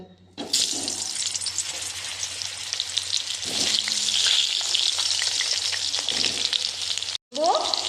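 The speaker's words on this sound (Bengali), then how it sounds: "ভাজার ওই তেলেই আমি আলুগুলো ভেজে নেব।" Potatoes frying in the oil left over from frying rohu fish, a loud steady sizzle with stirring and scraping throughout, briefly cutting out near the end before resuming.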